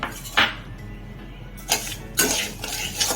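Cracked wheat being stirred in a cooking pot for a traditional South Gujarat dish, heard as a few separate scraping clinks of a spoon against the metal pot, spaced apart with quiet gaps between them.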